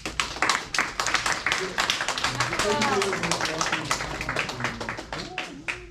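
Audience of high school students clapping at an environmental talk concert, scattered, uneven claps with a voice talking over them.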